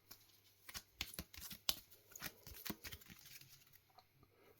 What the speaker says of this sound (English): We can then also take our discard pile, shuffle it